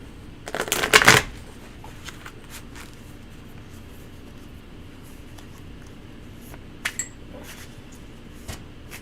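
Tarot cards shuffled close by in one quick, crisp riffle burst near the start, followed by quiet room tone with a few light handling clicks and taps.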